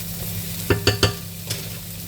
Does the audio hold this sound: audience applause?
no